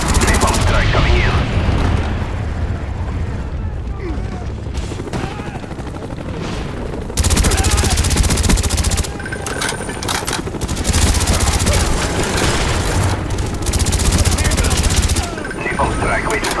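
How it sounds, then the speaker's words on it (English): Heavy explosions and rattling gunfire from a napalm strike in the video game Call of Duty: Black Ops 1, a dense, loud wall of booms and shots that swells and eases in waves. "Napalm strike coming in."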